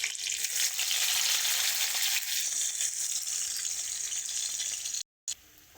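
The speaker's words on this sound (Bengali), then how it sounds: "রসুন একটু ভালো করে ভেজে নেব।" Chopped onion and garlic fry in hot oil with a steady, loud sizzle for about five seconds, then it cuts off briefly and resumes more quietly.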